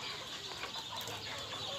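Free-range garden chickens cluck in the evening while flying up into a tree to roost, a steady dense mix of clucks and rustling from several birds at moderate distance.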